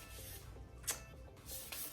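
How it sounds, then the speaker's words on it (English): Hands rub together after Lysol disinfectant is sprayed into them, making soft, quiet friction with a couple of short spray hisses. The sounds are close-up and no one speaks. "you spray the Lysol into the hand, and you just basically act like it's soap."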